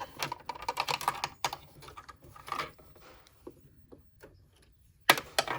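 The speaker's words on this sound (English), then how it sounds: "that lobster clasp is noisy" A metal lobster clasp on a wrist strap makes sharp little metallic clicks and clatters in irregular bursts, fairly close, with quieter stretches in between and a louder snap near the end.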